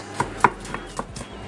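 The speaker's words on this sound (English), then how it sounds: "Chopping it kind of roughly." A knife roughly chopping garlic on a board for a steak and potato dish, a quick run of about five or six crisp, close cuts with no talking.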